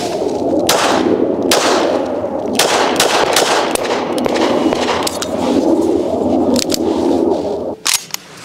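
A Beretta Cheetah .380 pistol fires a series of loud, close sharp shots in irregular succession, with ringing echo between reports.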